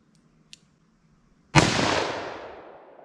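A single loud .44 Magnum revolver shot fired double action outdoors, a sharp close blast with a long ringing decay, after a faint tick in near silence.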